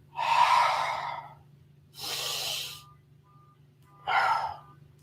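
Three slow, deep breaths during seated chi kung: long airy inhales and exhales, close and clear, with pauses between them over a faint low hum.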